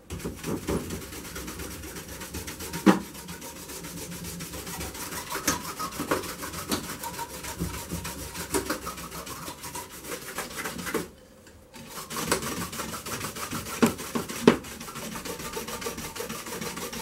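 Old lead came on a stained glass panel is polished by hand with a brush, producing close, continuous rhythmic rubbing strokes with a brief pause near the end before the scrubbing resumes.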